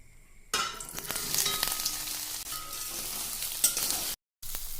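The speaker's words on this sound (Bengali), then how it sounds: "এখন আমি সয়াবিনগুলো ভেজে নেব।" Soybean chunks fry in a hot pan, bursting into a loud, dense sizzle after a quiet start, with stirring scrapes and brief metallic clinks, a short silent gap near the end, then the sizzle resumes.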